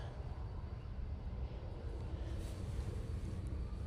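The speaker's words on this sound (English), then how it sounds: "A320-200 going back to London Heathrow now." British Airways Airbus A320-200 airliner at Manchester Airport, a steady broadband engine roar with wind noise, continuous and fairly distant throughout, no talk over it.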